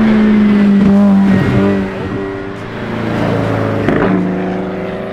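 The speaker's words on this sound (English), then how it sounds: "There's more and more cars." Cars driving past one after another on a road, engines swelling and fading with a steady loud drone and passing whooshes, no voices.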